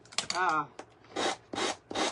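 Rough rasping strokes of sanding plastic-type paper, several bursts in an uneven rhythm with short pauses between them, close by and fairly loud.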